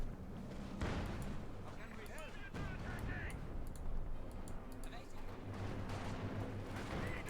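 A field gun fires in the Company of Heroes 2 battle game. Several booming shots and distant battle rumble sit beneath continuous commentary.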